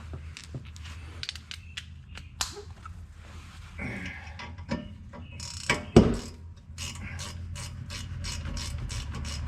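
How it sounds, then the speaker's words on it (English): A ratchet with a 7mm Allen head socket drives bolts on a 2012 Mazda 3 during rear brake work, with rapid clicking bursts that turn into steady, fast ratcheting near the end. "Get our bolts started in. Switch back to our 7mm Allen head."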